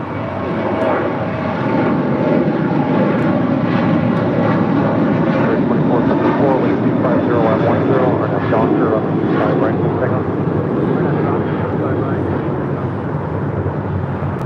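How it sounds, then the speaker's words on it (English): A United Boeing 777 bound for Honolulu takes off on the north side, a loud sustained jet roar building and holding for many seconds while people talk over it. "United 777 heading to Honolulu,"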